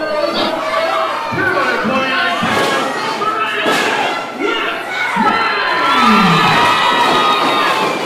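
Lively crowd at a wrestling show cheers and yells loudly, with children shouting and heavy thuds and slams from the ring, continuous and close throughout.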